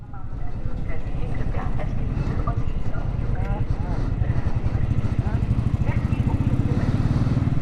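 A Royal Enfield Meteor 350 motorcycle runs with a steady, loud, thumping engine beat while riding through a city U-turn, someone talking over the rumble throughout.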